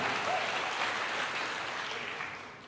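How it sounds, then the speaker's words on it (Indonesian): Church congregation applauding during a sermon, a soft, steady wash of clapping heard at a distance that gradually fades toward the end. "Ayo kasih tepuk tangan dulu buat Tuhan kita."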